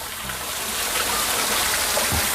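A small, cool waterfall flows with a steady, dense rush of water that holds at one even level throughout, close by and with no talk over it.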